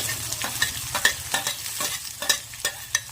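Onions and dried red chilies frying in a pan for a Kerala rice chutney, a steady sizzle broken by repeated spoon scrapes and stirring taps at an irregular rhythm, close up with no voices.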